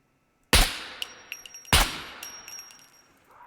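Two loud sharp rifle shots in the survival game SCUM, each a sudden crack followed by a ringing metallic tail, spaced just over a second apart in otherwise quiet surroundings.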